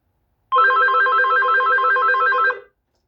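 A Casio Phonemate phone ringer sounds one steady, close warbling electronic trill of about two seconds, then stops abruptly into silence.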